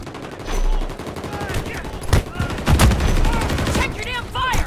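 Bursts of automatic gunfire crack through a Modern Warfare 3 multiplayer match, loud sharp shots with heavier impacts midway, layered over game sound effects and radio chatter.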